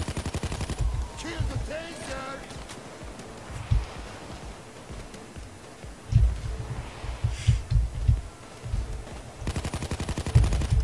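Gunfire in the heist game PayDay 2, with repeated bursts of automatic shots in clusters over constant game background noise, louder volleys near the start, in the middle and at the end.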